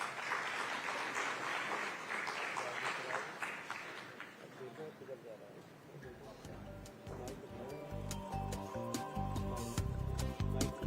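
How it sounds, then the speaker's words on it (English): Conference audience at the India Today Conclave South in Coimbatore applauding, a fairly quiet spread of clapping that fades as music with a heavy beat rises and takes over. "Let's have a huge round of applause."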